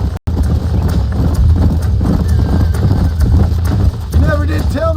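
Horses gallop in the Western video game Red Dead Redemption, a loud, rapid, continuous drumming of hooves close by, with voices speaking over the hoofbeats near the end.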